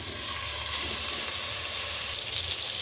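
Chicken pieces frying in oil for a spiced chicken dish, a steady dense crackling sizzle that holds evenly close by, brightening slightly near the end, with no voices.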